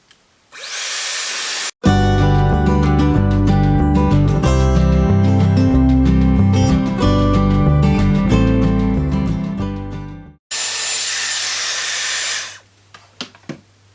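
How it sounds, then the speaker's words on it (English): A Dyson AirWrap rough-drying damp hair gives a loud, close, steady airflow whoosh, first briefly, then cut off by a stretch of music before the blower roars again. "now I'm just going to turn the machine on and literally just rough dry my hair"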